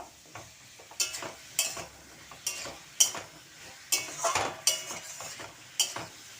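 Spices and vegetables with ginger water are stirred in a pan with a utensil, giving rhythmic close scrapes and clinks about every half second over a soft sizzle.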